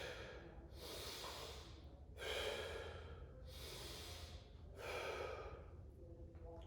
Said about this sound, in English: Start taking those deep breaths.